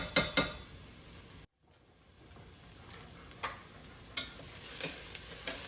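Onions fry in a pan for a low-carb Mexican noodle soup, a soft sizzle broken by a few sharp stirring scrapes, with a brief silent gap early on. Nobody speaks.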